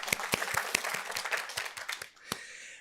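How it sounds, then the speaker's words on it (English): A small audience at an art lecture event clapping in distinct, fairly sparse claps that thin out and stop near the end, close and moderately loud. "I think we should clap."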